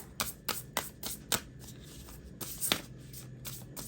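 A deck of reading cards is shuffled by hand in a run of crisp, riffling bursts with short pauses between them, close and clear with no talking.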